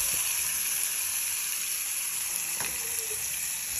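Ground paste goes into hot oil for a tomato pickle and sizzles steadily, loud and close, with a couple of faint clinks of a utensil.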